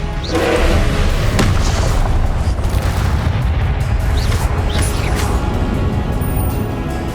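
In Hogwarts Legacy, Incendio fire spells go off as loud booming bursts with a few sharp whooshing flares amid steady, dense game combat noise; no talk is heard.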